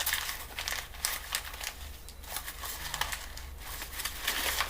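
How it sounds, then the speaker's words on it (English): A sheet of paper is crumpled by hand up close, giving a steady run of crisp crinkling and crackling rustles with no voices over it. "I'm going to crumple it again"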